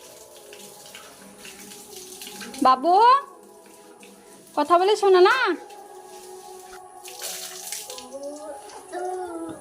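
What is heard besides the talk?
child washing himself with running water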